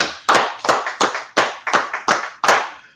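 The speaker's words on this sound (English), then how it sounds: "go ahead and clap it up" A small group claps together in a rhythmic, unison pattern, about eight crisp, loud beats spaced evenly and close by, with no voices heard.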